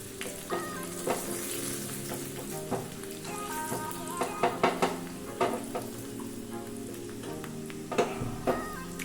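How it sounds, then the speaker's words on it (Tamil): Garlic fries in oil in a pan for a Mangalore sautekayi cucumber sambar. A steady sizzle runs under repeated metallic clinks and scrapes from a ladle, close and moderately loud, with no talking. "பூண்டெல்லாம் கொஞ்சம் நல்லா வேகட்டும்."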